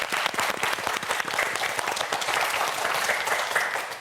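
A studio audience on a televised science quiz show claps steadily for about four seconds, a dense, even round of applause with no voices over it.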